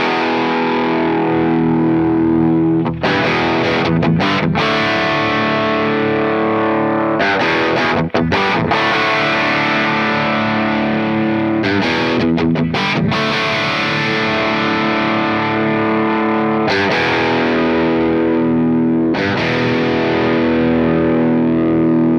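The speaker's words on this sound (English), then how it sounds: "So if this is our starting point with the JCM 800 sound" An electric guitar runs through a Sinvertek MGAT-1 Golden Era preamp on its Marshall JCM 800 setting, playing crunchy, distorted chords and riffs loud and steady for about twenty seconds, with brief choppy muted breaks between phrases.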